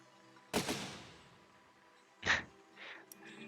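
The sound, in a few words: cannons firing in Besiege video game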